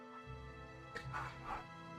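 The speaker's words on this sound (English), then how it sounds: "there are dogs barking" Several dogs bark in the distance on a morning, giving a few muffled woofs over a steady low background hum with no talk.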